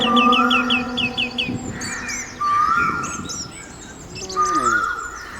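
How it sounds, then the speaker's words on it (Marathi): Birds chirp and call outdoors, with repeated bright whistled notes, rapid trills and overlapping tweets from several birds, fairly close and loud, with no talking. "इथल्या पक्ष्यांचा किलबिलाट"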